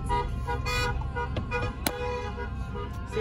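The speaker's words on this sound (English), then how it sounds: "honking the horn. See, they're honking it wrong." Car horns honk repeatedly at a Philippine Independence Day celebration, short and long toots overlapping amid steady traffic noise and a crowded street din.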